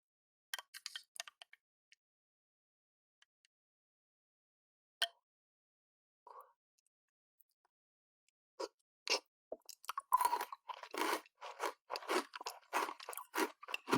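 Maltesers with yogurt are chewed close to the mic, a few sharp crunches at first, then after a quiet stretch a dense run of crisp bites and chewing near the end, with no talk.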